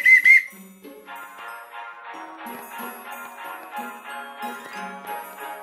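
A short, loud whistle toot at the start, followed by a jingly, tinkling musical sting that plays on steadily in the background.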